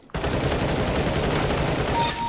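Rapid automatic rifle fire from a Galil in the shooter game CS:GO, a dense unbroken burst of shots that starts abruptly and holds loud to the end.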